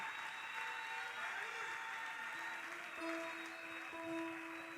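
A church congregation applauds in praise of the Lord during a worship service, a steady wash of clapping from many hands sustained throughout, with a few held musical tones running underneath.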